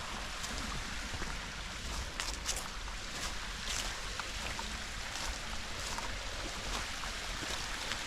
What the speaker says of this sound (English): I guess the cascade, even though it looks like a little waterfall.